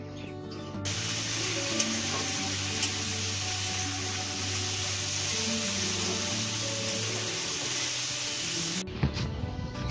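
Onion and garlic frying in a wok for a home-cooked potato and fenugreek-greens dish, giving a steady close hiss and sizzle that runs without a break from start to finish, with no talking.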